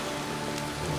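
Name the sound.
rain falling in the film Noah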